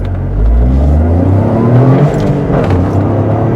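A 2024 Toyota GR Corolla hatchback accelerates hard. Its engine drones loudly from inside the cabin, rising in pitch, with quick short-shift gear changes that briefly drop the revs before climbing again.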